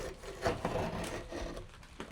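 Blade slicing and tearing loose paper facing off damaged drywall during a patch repair, short close scraping and ripping bursts in an uneven rhythm, fairly quiet, with no talking.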